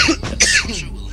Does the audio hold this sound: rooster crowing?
no